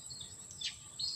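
Small birds chirp in short, high, faint tweets, a few scattered calls over a quiet background.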